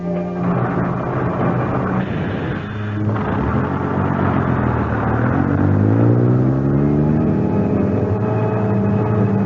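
A bus engine runs steadily as the vehicle drives, its low motor hum climbing in pitch through a gear change, a continuous mid-loud drone staged as a radio drama sound effect.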